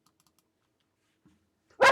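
A single sharp dog bark bursts out loud at the very end after near silence with faint clicks.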